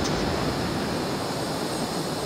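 An airplane passing overhead in Flight Simulator, a dense continuous broadband roar, loud and steady throughout the short span.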